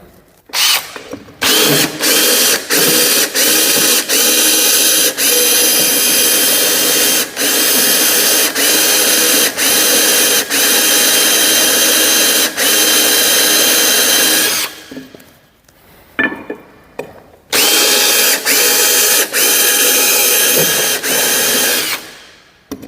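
A diamond-tipped hole saw grinds through tile with a loud, continuous whine broken by brief rhythmic dips, stopping near the end before a short restart, very close.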